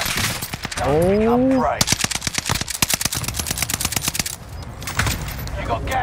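An NZ-41 rifle in Warzone Rebirth Island fires long, loud, rapid automatic bursts, rattling steadily for several seconds, after a man's brief exclamation and alongside game announcer voices.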